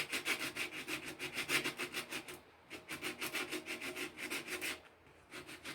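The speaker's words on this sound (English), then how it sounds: "we're just going to use this to lightly sand" Hand sanding by light rub on a thrift-store Goodwill item: steady, rhythmic back-and-forth scratchy strokes in two close bursts separated by a short pause.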